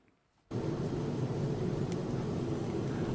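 Steady engine drone inside an airplane cabin in the WWE 2K19 video game, a constant loud broadband hum that switches on abruptly after a moment of near quiet and holds evenly with no voices.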